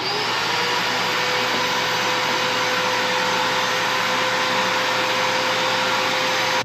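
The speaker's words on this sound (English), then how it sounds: "I'm going to use my Mower shop vac to clean the inside of that filter housing." A shop vac runs continuously at close range with a loud, steady roaring whine as it cleans out the filter housing of a Kubota F3680 mower, no talk over it.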